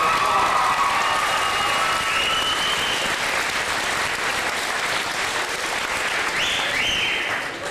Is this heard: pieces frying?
no